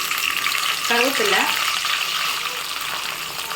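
Curry leaves crackle and sizzle as they hit hot oil in a pan, a loud burst of frying that settles into a steady hiss, with a voice briefly audible.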